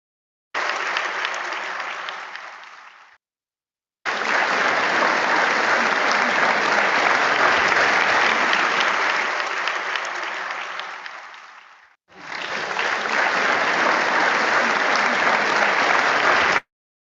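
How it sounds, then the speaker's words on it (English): Loud, sustained audience applause after a capstone presentation, filling the room in three long bursts with a brief silence between the first and second and a short dip before the third. "that was a resounding round of applause"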